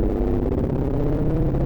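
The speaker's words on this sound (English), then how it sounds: "right now, what you're hearing is the Synchrodyne." A WMD Synchrodyne Eurorack filter module in a drone patch, with no delay, gives off a dense, continuous low drone with rich bass harmonics that hums steadily and loudly throughout.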